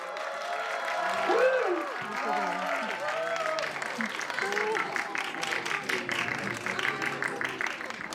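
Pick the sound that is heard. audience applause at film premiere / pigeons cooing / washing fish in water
audience applause at film premiere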